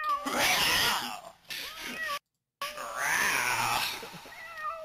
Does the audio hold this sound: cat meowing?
yes